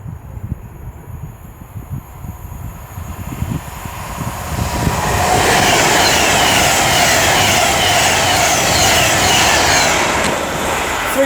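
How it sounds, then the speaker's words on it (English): A Pendolino train approaching and rushing past at Lichfield Trent Valley station, rumble swelling into a loud sustained roar with rising hiss, steady for several seconds. "We got another Pendolino."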